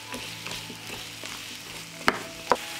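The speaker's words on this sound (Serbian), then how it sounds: "I pržit ću sve zajedno 5 minuta." Bacon and vegetables fry together in a pan, a steady close sizzle broken by soft stirring scrapes and two sharper clacks of a utensil near the end.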